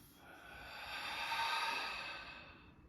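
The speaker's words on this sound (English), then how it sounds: "Let's start with an inhale through our nose. And exhale out the mouth." A single long, soft exhale out through the mouth during a yoga breathing exercise, a breathy rush that swells and fades over a few seconds, close and alone.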